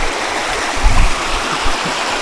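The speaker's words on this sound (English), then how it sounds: "Let's go down and check out the creek now that it's daylight." Creek water flows steadily near a riverbank campsite, a continuous broadband rush with a few low gurgles and splashes swelling briefly, close and fairly loud with no voices.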